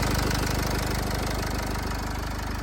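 A 2015 Renault Koleos diesel engine idling nearby with a steady, rapid rhythmic clatter and constant low rumble throughout.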